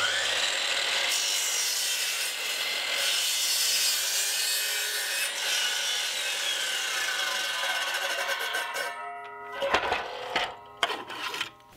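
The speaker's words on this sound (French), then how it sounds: "Et du coup, je coupe là. Et pas de surprise, c'est un angle à 45 degrés du coup." A saw cuts through wood at a 45-degree angle while a custom wooden scaffold is built, a loud continuous rasping drone close by that ends with a few knocks and scrapes once the cut is finished.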